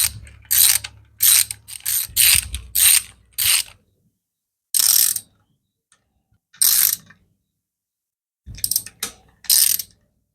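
A ratchet tightens engine bolts during an Ecotec engine rebuild. Several close, loud bursts of rapid ratchet clicking come in separate strokes with pauses of a second or two between them.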